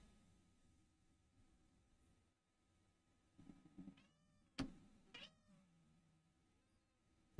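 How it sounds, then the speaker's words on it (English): A house cat meows indoors a few times, faint and sparse at first, then a clearer, louder meow with a sharp sound at the very end, in otherwise quiet surroundings. "He just came here to meow."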